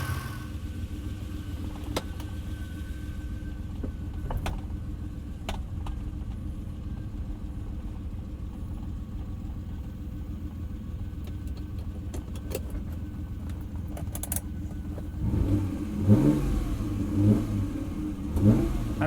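A Ferrari 330 GTC engine idles with a steady low rumble close by, with a few sharp clicks along the way, then rises into louder revs in the final few seconds.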